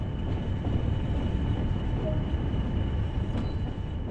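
A BR Class 40 diesel locomotive in Train Sim World runs steadily on the Northern Trans-Pennine line, with a constant low engine rumble and a faint wheel squeal near the end.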